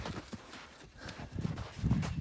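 A horse's hooves clop at a walk on the ground during a horsemanship training session, with irregular, moderately close footfalls that grow heavier toward the end as the mare is brought to a stop.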